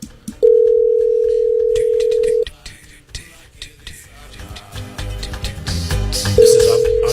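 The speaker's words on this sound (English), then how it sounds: "Bloody loud ringtone, isn't it?" A loud telephone tone during a live radio call, a steady held tone that runs for about two seconds, breaks off, then returns briefly at the end over background studio noise.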